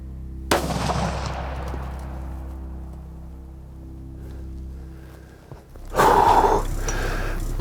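A single loud gunshot cracks out while hunting a buck in a food plot, its boom rolling away into a long fading echo, then a second sharp blast of noise near the end; no speech.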